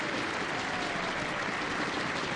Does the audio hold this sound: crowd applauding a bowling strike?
yes